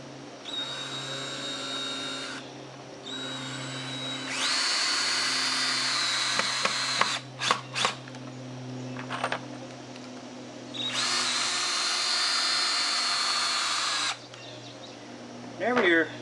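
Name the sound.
battery drill drilling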